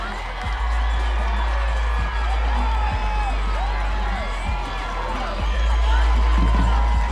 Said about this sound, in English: you can hear the roar from the far side.